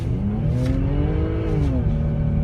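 A Jaguar car drifts on a frozen lake, its engine note rising and falling in steady revving sweeps with a continuous, close, loud tone throughout.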